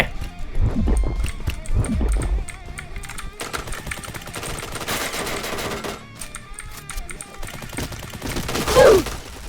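Light machine gun fire in the Point Blank video game, a Honey Badger, with sustained rapid bursts loud and close, broken by brief pauses and mixed with other game effects.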